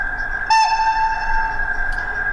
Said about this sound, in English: F2 is a short whistle blast.